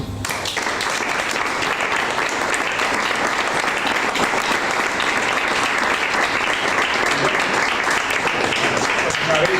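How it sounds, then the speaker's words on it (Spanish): Dense, sustained audience applause rises at a memorial gathering in honour of a late friend, steady and full from start to finish with no voices above it. "en su honor, un aplauso"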